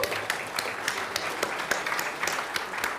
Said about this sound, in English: Rounds of applause for Composey.